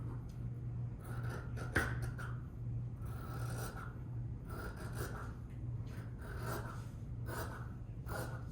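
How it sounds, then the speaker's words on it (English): Scissors cut fabric along a skirt's hem allowance line, a steady series of rasping, scraping snips repeating roughly every half second over a low constant hum, with no talk. "I'm gonna cut on that hem allowance line that I just drew."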